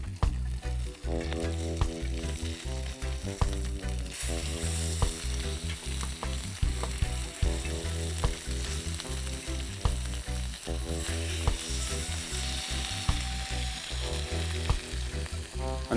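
Salmon fries in a very hot pot, a loud continuous sizzle with crackling pops and occasional stirring clatter, no voices.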